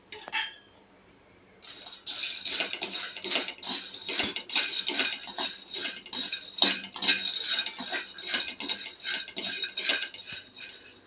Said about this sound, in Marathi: ह्याच्यामध्ये आता मसाला वेलची आणि स्टार फूल हे दोन्ही एकत्र भाजून घेते